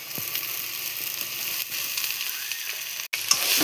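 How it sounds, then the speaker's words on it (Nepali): Potatoes and vegetables with turmeric fry in a pan for a banana leaf subji, giving a steady, close sizzle that runs alone with one brief break near the end. "आलु चाहिँ फ्राई गरिराखेको छु।"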